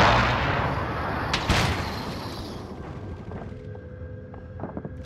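Gunfire in Call of Duty: Modern Warfare, a loud burst of shots and booming reports early on, then fading into quieter scattered mechanical sounds and faint distant pops.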